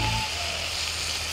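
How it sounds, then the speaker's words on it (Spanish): A steady, broadband sizzle of chicken frying in a hot pan, constant and close, with a brief low hum at the start. "Mientras que se está friendo,"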